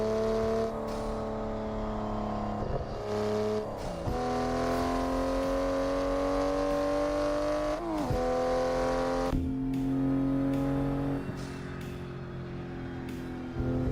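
A Toyota Supra MK5 engine plays in a racing simulator game, revving steadily with rising and falling pitch and sharp drops at each gear shift, loud and continuous with no voices.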